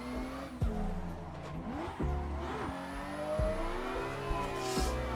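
Sim race car drifting in Assetto Corsa, engine revving up and down in repeated bursts with tire squeal layered over it, loud and continuous with sharp gear or throttle changes.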